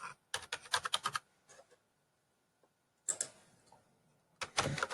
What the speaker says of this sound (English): So I'm going to start typing those 4 bullets.